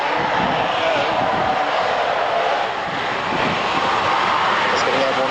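A military reconnaissance jet at the Fairford air show in 1994 passes with a loud, steady roar of engine noise filling the air, as a commentator talks over the public address.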